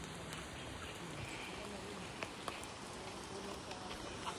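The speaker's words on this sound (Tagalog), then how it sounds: "So ngayon, nandito na naman yung ulan." Rain falling outdoors as a steady, faint hiss of drops with a few scattered sharper taps, under an even wash of background noise.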